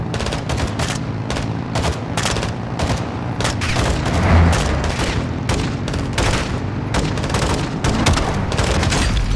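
Launcher explosions and gunfire from Call of Duty Modern Warfare 2 form a loud, continuous barrage of rapid shots and booms with no pauses.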